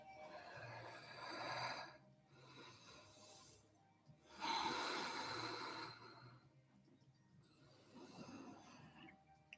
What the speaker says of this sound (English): That active breathing, that fluid breathing, that being in control of the breath.